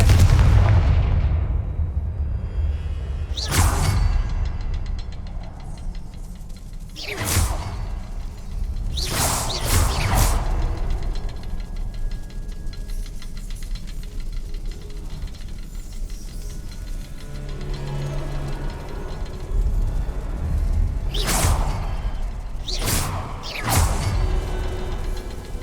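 Confringo blasting spell explosions in Hogwarts Legacy, a series of sharp, loud booming blasts spaced several seconds apart, each with a whooshing burst and decaying rumble over low ambient game noise.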